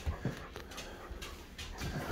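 A dog whimpers faintly indoors, with soft, brief whines and light panting at low volume and no talking.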